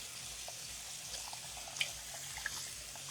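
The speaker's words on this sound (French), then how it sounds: "je rince correctement le gant de toilette" A tap runs quietly into a sink while a washcloth is rinsed, a soft continuous trickle with a few small splashes and drips, faint and close, with no talking.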